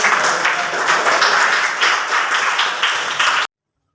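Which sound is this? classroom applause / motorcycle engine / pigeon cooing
classroom applause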